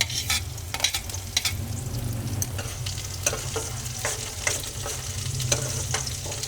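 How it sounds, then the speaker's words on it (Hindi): Finely chopped ginger, garlic and green chili fry in oil in a pan for mustard greens, a steady low sizzle broken by frequent stirring scrapes, close and moderately quiet with no talking. "अदरक लहसुन को हमने बारीक काट लिया है। इसे हम तेल में हल्का सा भून लेंगे और अब इसमें हम डाल देंगे बारीक कटा हुआ हरा मिर्च।"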